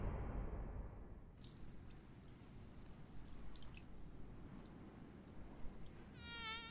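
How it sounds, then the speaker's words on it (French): Buzzing of a mosquito swarm in the One Punch Man anime, a steady insect whine running throughout at moderate loudness, with a brief higher warbling tone near the end. "Cette nuée de moustiques, ne vous en approchez surtout pas."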